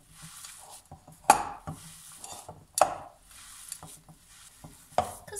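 Bare hands knead moist bulgur for kısır in a bowl, giving soft squishing and stirring sounds with a few sharper slaps, close up and with no talking.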